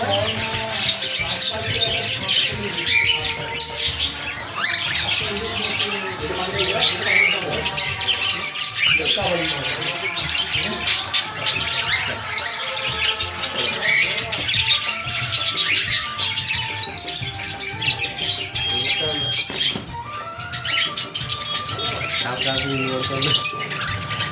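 Diamond doves and other cage birds, including cockatiels, Java sparrows and budgies, call constantly around a bird sale, a dense overlapping mix of chirps, squawks and coos with someone talking over them.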